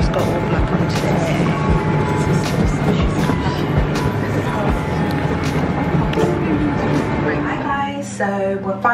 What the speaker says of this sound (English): we're finally on the train, on the Eurostar on our way to Paris